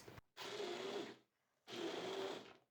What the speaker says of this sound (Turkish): Şimdi blenderdan geçeceğiz.